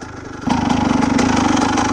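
A motorcycle engine running after a seized motor got a replacement used cylinder and piston: a low idle that picks up sharply after a moment into a steady, even, pulsing putter, close and fairly loud.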